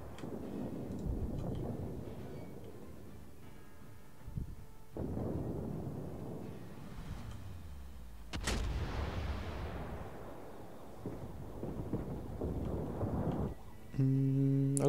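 Heavy naval guns of the battleship Bismarck in World of Warships fire in several deep booming salvos spread across the clip, each a loud thud with a long rolling rumble.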